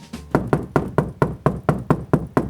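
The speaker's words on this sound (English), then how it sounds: "I am in my hotel room and I hear a knock at" Knocking at a hotel room door: ten sharp, evenly spaced raps, each loud and close, with no voices.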